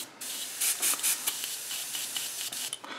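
A Mr. Hobby airbrush sprays out cleaning liquid in short hissing bursts, several quick close sprays followed by a steadier faint hiss.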